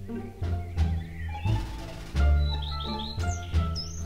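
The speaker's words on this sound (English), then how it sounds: "Birds are singing again." Cartoon birds chirp in short, high, bright bursts at the end of winter, set over a busy musical background with other animated sounds.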